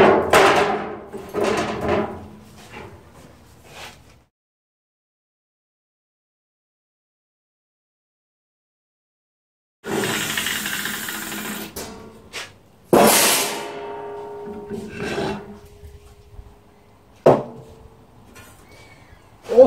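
Sheet metal being cut for a Honda ATC fuel tank: harsh bursts of cutting noise and sharp metallic knocks and clanks, loud and close, broken by a long silent stretch.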